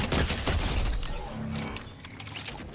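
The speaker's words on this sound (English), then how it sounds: "Hip fire shotgun swap." Hip-fire shotgun shots and weapon swapping in Fortnite: sharp, loud blasts early on, followed by mechanical clacks and ratcheting handling sounds, close and without speech.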